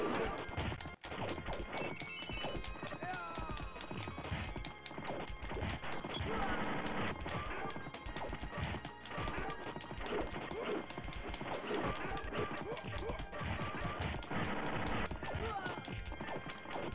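Arcade game Knights of the Round played by three players, with a dense, loud mix of galloping hoof clops, horse whinnies, sword clashes and hits over busy chiptune-style music, continuous for the whole stretch.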